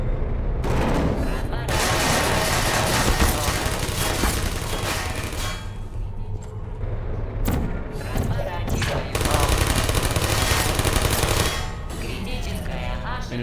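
Turret gunfire in a Portal ambush, dense rapid automatic fire and mechanical clatter that runs almost continuously with brief gaps, loud and close, with a voice partly audible beneath.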